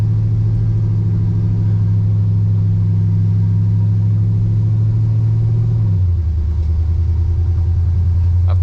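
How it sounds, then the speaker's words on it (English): A 1953 Chevrolet 3100 pickup truck drives with a steady, loud low engine drone and road rumble, easing to a lower pitch partway through as it shifts or slows, with no talking. "welcome back to the driving portion on this 1953 Chevy 3100."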